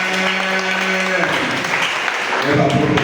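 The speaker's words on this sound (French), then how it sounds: "On acclame Jésus-Christ ce matin." A church congregation breaks into steady applause to acclaim Jesus Christ, loud and continuous, with voices and shouts carried along underneath.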